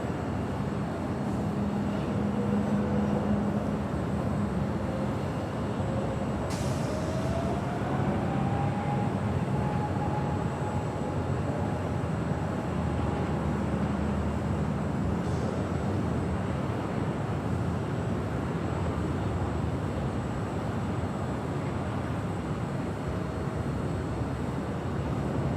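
An airliner taking off from runway 24 left at Los Angeles International Airport gives a continuous, broad jet roar that holds steady and fairly distant throughout, with a faint rising engine whine mixed in.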